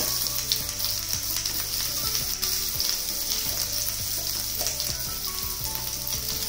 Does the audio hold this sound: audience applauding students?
no